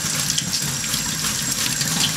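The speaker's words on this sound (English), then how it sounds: "Next thing here, just run some water over it" Tap water runs steadily over rose hips held in a wire mesh, producing a continuous close splashing hiss with small spattering variations and no talk.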